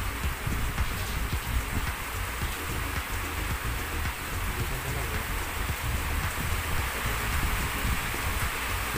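Heavy rain pours outside, a loud continuous wash of noise with dense drop patter, steady and close for the whole stretch with no talk.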